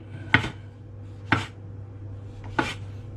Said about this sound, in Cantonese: 咁草菇就你可以切片，切到咁樣